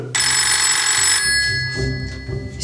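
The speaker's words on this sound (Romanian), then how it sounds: "Se aude telefonul, cineva ne sună." A telephone in a kitchen rings with a bright, insistent electronic trill for about a second, then falls silent, leaving low background noise.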